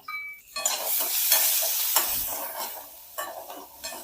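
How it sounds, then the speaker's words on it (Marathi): Garlic cloves and green chillies sautéing in a pan for a Maharashtrian colocasia-leaf curry, a steady close sizzle with stirring scrapes, starting after a brief quiet moment and continuing loud and alone. "एक ते दोन मिनिट लसूण आपण ओली मिरची परतून घेतली"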